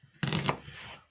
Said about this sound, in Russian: Первым делом измельчаем лук.